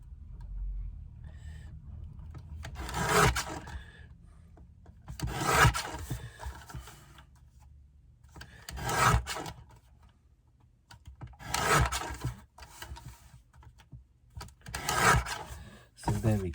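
A stamp block being trimmed down to a 5-inch square, with five separate bursts of rasping, scraping cuts spaced a few seconds apart against quiet surroundings.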